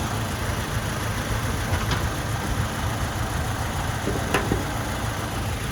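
A 2008 Toyota Tacoma's 2.7 liter inline four-cylinder with 152k miles idles steadily and up close, a constant low rumble with a couple of faint ticks, and no one talks.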